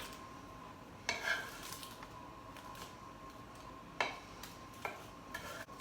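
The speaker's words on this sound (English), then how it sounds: "So I'm going to flip them all over so they can get the other side dried" Oven-baked pieces being flipped over one by one on a metal baking tray, faint clicks and light scrapes of a utensil against the pan at irregular intervals, close and otherwise quiet.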